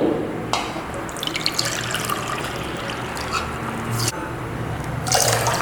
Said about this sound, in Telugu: మూడు కప్పులు వాటర్ తీసుకోవాలి